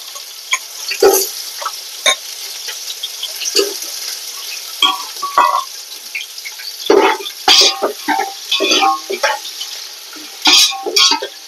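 Onions frying in about half a cup of oil for mutton pulao give off a soft, patchy sizzle, broken by scraping stirs and clinks of a spoon in the pan at close range.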